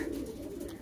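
A pigeon gives a short low coo, close and clear, with no talk around it.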